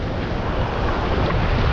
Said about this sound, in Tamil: அலை கொஞ்சம் இன்றைக்கு அதிகமாக இருக்கிறது